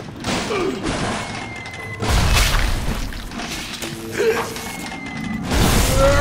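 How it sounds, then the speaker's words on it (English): Grenade explosions in the Bioshock video game, two or three heavy booms with crashing debris amid game sounds and a faint whine, loud and close. "Don't throw grenades at me."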